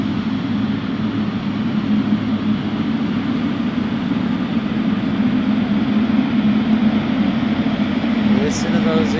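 Aircraft engines at the Memphis cargo airport give a steady, continuous broadband hum with a low drone, heard from a distance with no clear breaks and a faint voice briefly rising at the end.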